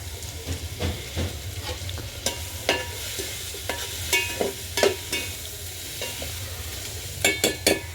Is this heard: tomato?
yes